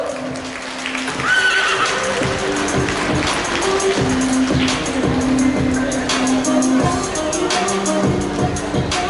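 A horse whinnies amid steady crowd noise, with scattered hoof-like thuds and knocks throughout.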